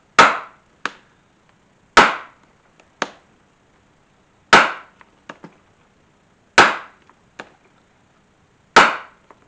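A leather holster being punched for stitching holes, a series of sharp, loud, close strikes at a steady pace, each one followed by a lighter secondary tap, with no talking between them.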